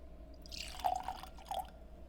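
Old Grand-Dad 114 bourbon pours into a glass in a couple of close, soft liquid glugs and drips, alone with no talking.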